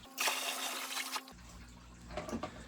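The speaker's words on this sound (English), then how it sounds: "start filling up this one again" Water pours into a lungfish aquarium tank as it is refilled, a steady rushing splash that shifts to a deeper gurgling fill partway through.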